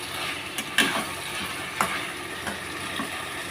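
Chicken curry frying in mustard oil, a steady broadband sizzle with a few sharp stirring scrapes and clinks of a utensil against the pan, close and continuous with no voices.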